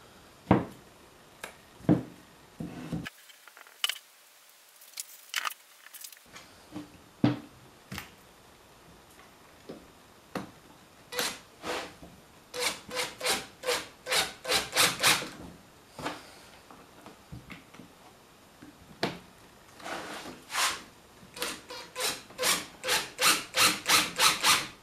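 Screws being driven by hand and glue work on a log-built wooden coffee table, heard as scattered woody clicks, rubs and taps, with a quick run of sharp rhythmic ticks later on, close up and with no talking.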